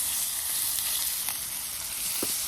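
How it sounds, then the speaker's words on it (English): Chicken fries in a pan outdoors with tomatoes, onion and garlic, a steady close sizzle with a few faint clinks, no talking. "we need to now cook our chicken"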